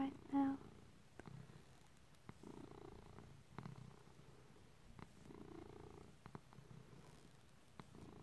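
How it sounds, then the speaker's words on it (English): A cat purring softly and steadily in quiet close-up at bedtime, a faint rhythmic rumble with small rustles and a soft voice briefly at the start. "Can you hear how loud he's purring right now?"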